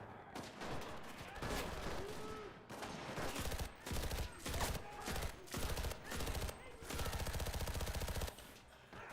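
Rapid video game gunfire rattles through a Battle of Berlin match in Enlisted, with bursts of automatic fire and single shots in quick succession, some pauses between volleys, and a voice faintly under the din.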